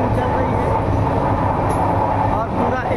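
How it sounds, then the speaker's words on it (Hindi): A passenger train running at about 110 km/h gives a steady loud rumble with rhythmic rattling of the carriage, heard from inside. "देखिए इस तरह से हमारी ट्रेन चल रही है, ये देखिए ट्रेन की रफ्तार 110 की रफ्तार में चल रही है हमारी ट्रेन"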